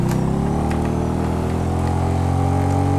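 A Yamaha NMAX scooter engine in GTA 5 drones steadily for the whole stretch, a continuous close hum whose pitch creeps slowly upward as it rides, with no voices over it.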